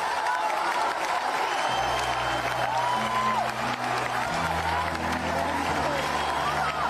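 A concert crowd at a show by a singer cheers and applauds steadily, a dense wash of clapping and shouting with a low sustained tone running underneath.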